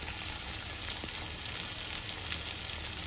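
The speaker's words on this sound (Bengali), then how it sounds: "কচুগুলো একটু ভালো করে ভেজে নেবো, যেন সিদ্ধ হয়ে যায় তাড়াতাড়ি" Pieces of taro fry in a pan with ginger, giving a faint, continuous sizzle and crackle with no voices over it.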